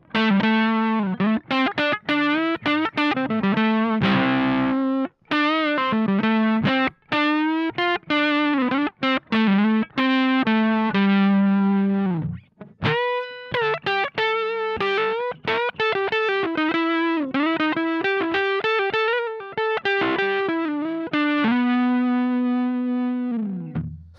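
Distorted electric guitar through a distortion pedal, neck pickup, plays a melodic phrase of sustained, bent notes and quick runs, with brief gaps between lines, warm, overdriven and bluesy.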